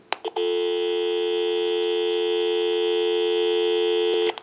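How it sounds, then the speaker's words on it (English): An AT&T Princess telephone gives a steady, continuous dial tone lasting about four seconds, opened by a couple of short clicks and closed by another click. "We'll give you some dial tone."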